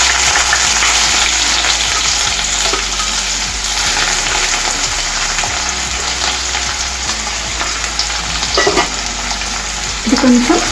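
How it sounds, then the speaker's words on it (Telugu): Cumin seeds and finely chopped onions fry in hot oil with a steady, close, loud sizzle that holds throughout, broken by occasional stirring scrapes and a brief louder crackle near the end. "ఇక్కడ ఒక 1/2 స్పూన్ జీలకర్ర, అలాగే సన్నగా తరిగి పెట్టుకున్న ఉల్లిపాయ ముక్కలు"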